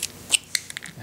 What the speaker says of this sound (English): I'm going to continue with another stab cut here with the chisel